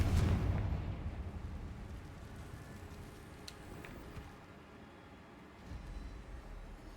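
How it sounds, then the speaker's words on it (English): A Confringo fire spell explodes in Hogwarts Legacy, a deep booming blast at the start that rumbles and fades into a long low echoing tail, with faint debris-like ticks afterward. "Confringo!"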